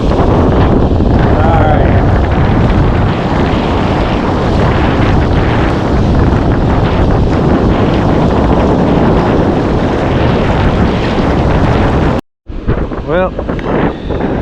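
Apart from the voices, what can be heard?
wind at the beach while shark fishing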